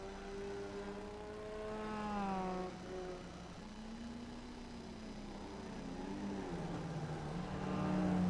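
A Mazda MX-5 race car engine revs and shifts through the gears at Bathurst in a racing simulator, its rising and falling drone steady and fairly close, with no voices.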